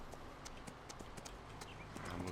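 Horse hooves clip-clop at a steady walking rhythm in Farming Simulator 19, close and clear over a dense bed of game ambience, with no talking.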